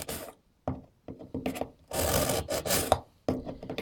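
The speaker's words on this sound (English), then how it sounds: "Now you can see that it's shaving the metal right off." A knife is drawn repeatedly through a kitchen sharpener's grooves, shaving metal off the blade, giving a series of short, close rasping strokes followed by a longer steady grinding pull, with no talk.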